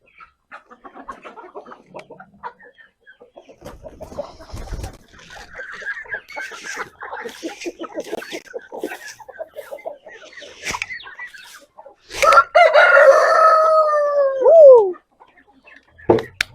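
Chickens cluck and chatter continuously at close range in a backyard flock, then a rooster lets out a loud, drawn-out crow near the end.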